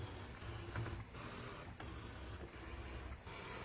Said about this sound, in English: I really like that about the ScanNCuts, is their cutting is very quiet.